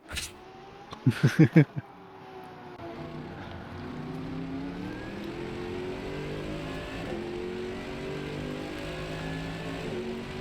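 Race car engines from AMG and Porsche cars in the RENNSPORT sim racing game hum and drone continuously at a steady pitch after a few sharp opening thumps, forming a mid-level background roar.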